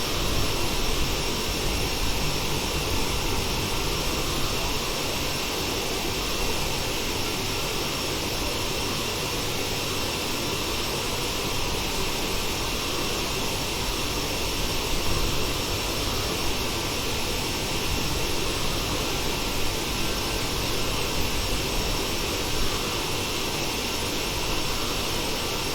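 Cabin of a Bombardier CRJ900 in flight, where the jet engines give a constant, even broadband roar with a steady hum, unchanging and without voices for the whole stretch.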